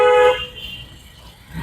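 A single short car horn honk, loud and near at the start, fading into quiet road and cabin noise during a driving lesson.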